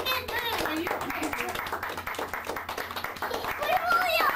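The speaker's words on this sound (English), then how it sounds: "Are you clapping" Children at a seventh birthday party clap their hands in quick, light, fairly faint bursts, mixed with chatter and kids' voices throughout.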